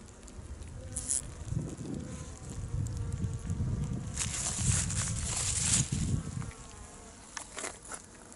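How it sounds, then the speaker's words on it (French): A dense, continuous buzz of many honeybees inside a hive in February, heard beneath bubble-wrap film covering it, fills the space, close and steady, with soft rustling and brief louder swells. "Je peux même voir les abeilles sous le film bulle"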